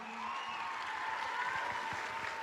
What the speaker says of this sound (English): Give these talented juniors a nice big round of applause.